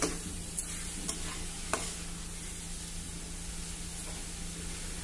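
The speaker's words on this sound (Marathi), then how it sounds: "आता मंद गॅसवर आपल्याला हे मिश्रण नीट परतत राहायचं आहे।" A coconut and sugar mixture is stirred in a pan over a low flame, giving a quiet continuous sizzle with a few faint scrapes of the spoon. There is no talking.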